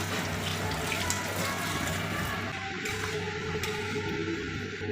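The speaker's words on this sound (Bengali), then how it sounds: "গরম জলটা আমি ঢেলে দিলাম" Warm water is poured into moong dal cooking with a fried katla fish head. A steady, continuous splashing gush of liquid runs throughout at an even level.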